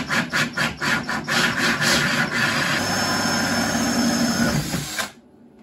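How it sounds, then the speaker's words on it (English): A power drill bores a hole through a plastic case for a DIY portable power station port, loud close grinding that starts with rhythmic pulses, then runs steadily before stopping abruptly. "So let's get this last one drilled out and last one put in."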